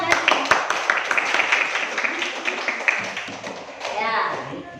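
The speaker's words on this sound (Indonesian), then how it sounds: "Oke, tepuk tangan." Classroom audience of students clapping after a presentation, a short burst of scattered hand claps mixed with voices and chatter.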